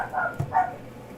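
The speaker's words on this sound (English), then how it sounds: "I made my dog bark." A dog barks once, fairly faint and somewhat distant, likely lying by a gate outside, a short muffled woof standing alone against quiet room noise.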